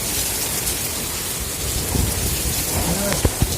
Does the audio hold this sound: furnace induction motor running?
no